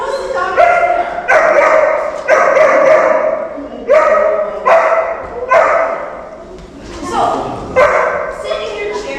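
A dog barks repeatedly in rhythmic bursts at a puppy preschool class, each sharp loud woof followed by short pauses, with occasional whimpering yips mixed in and people talking around it.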